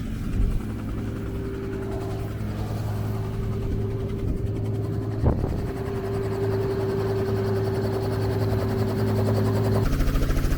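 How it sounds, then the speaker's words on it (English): A steady mechanical drone with a constant low hum and rotor-like throb, heard from inside a running doors-off helicopter over Rio de Janeiro, continuous and fairly loud throughout. "we're going to be flying in a helicopter over Rio de Janeiro"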